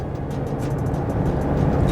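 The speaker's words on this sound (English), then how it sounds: "The road noise isn't too bad either." Inside a Mercedes-Benz GLC on the move, a steady, moderate road and tire rumble rolls on with a broad low hum, with no talking.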